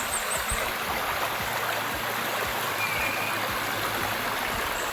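Steady rushing of flowing river water, a continuous broadband wash with small splashes, alone and fairly close.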